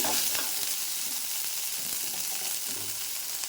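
Small shallots sautéing in oil in a pan, a steady close sizzle with occasional light spatula stirring, continuous throughout.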